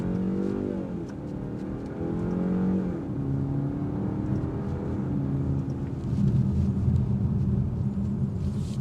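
A 2026 BMW 530i sedan accelerates hard with boost engaged, its engine drone rising in pitch through gear changes, steady and fairly loud from inside the cabin, with no talking.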